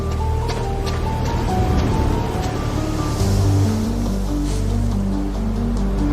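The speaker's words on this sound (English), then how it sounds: "The waves have been washing all night, erasing most traces." Ocean waves wash steadily onto a shore at night, a continuous loud surf roar with low rumble and faint wind, no voices.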